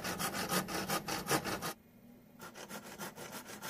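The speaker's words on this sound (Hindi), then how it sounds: "निशान लगाने के बाद हम इसकी कटिंग करेंगे" Handsaw cutting through a wooden board to make a piece for a small wooden hand plane, with steady rhythmic back-and-forth strokes, close and loud, pausing briefly before resuming.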